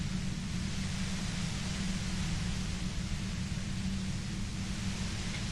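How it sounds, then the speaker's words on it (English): A steady wash of static-like white noise from the Disco Elysium role-playing game, an even hiss with a low hum underneath, unchanging and uninterrupted throughout. "You hear through the white noise. It's especially bad suddenly."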